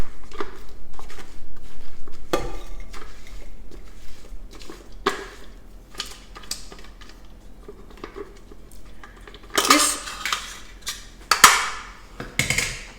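Finely chopped ingredients for a freezer-meal mixture tipped into a bowl, heard as a run of soft patters, knocks and light clatters of utensil on dish, with sharper scraping bursts near the end and no talk.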